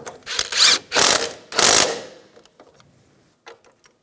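A hand ratchet tightening the nut on a sway bar link of a 2004–2009 Toyota Prius front strut: three loud close bursts of rapid clicking, then a few faint scattered clicks.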